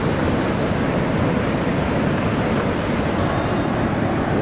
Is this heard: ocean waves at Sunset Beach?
yes